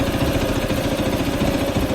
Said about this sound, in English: I'm also idling a little bit higher than it's supposed to